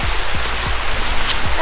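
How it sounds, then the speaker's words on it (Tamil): Water rushes steadily at Aare Falls near Nagalapuram, a loud, close broadband roar of flowing stream and falling water that continues without pause through the short stretch. "தண்ணி வருது."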